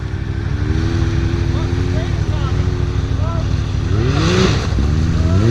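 A Can-Am off-road vehicle engine runs loud and close at a dam, its revs rising and falling in wavering sweeps with a sharp climb near the end, while people talk over it.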